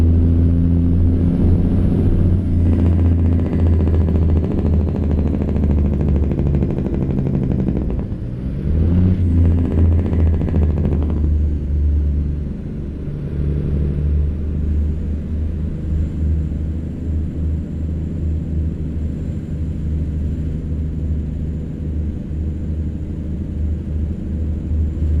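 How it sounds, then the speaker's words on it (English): Heavy truck engine rumble from Jake brakes on a cattle hauler, loud and close, with a deep throaty drone that swells and dips as the truck decelerates, steady throughout with no voices. "get ready to listen to the Jake brakes"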